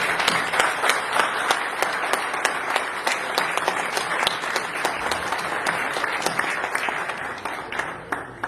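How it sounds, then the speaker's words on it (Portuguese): Audience applause at a book presentation in Mação, a roomful of people clapping in a steady, moderately loud patter with distinct individual claps, continuing without pause. "a primeira salva de palmas para o Dr."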